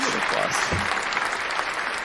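A brief burst of applause at a live-streamed Kubernetes office hours session, a steady wash of clapping that holds evenly for about two seconds, with a faint voice mixed in beneath it.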